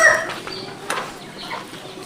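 Chickens and chicks cluck and peep in a village poultry farm shed, scattered short calls rising over a quiet background, with a sharper, louder call around the middle.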